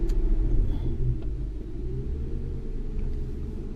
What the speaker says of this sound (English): So we'll go ahead and snap the throttle.